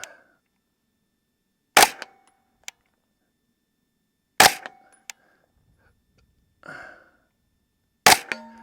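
A Smith & Wesson FPC 9mm carbine fired at a target, three sharp, loud single shots spaced a few seconds apart with brief echoes and quiet between them.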